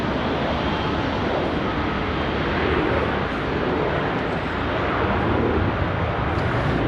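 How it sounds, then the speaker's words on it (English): Fiji Airways flight 910 bound for Nadi taking off from Sydney Airport, a broad continuous jet roar held at a steady, loud level from start to finish. "Catch its takeoff in just a moment."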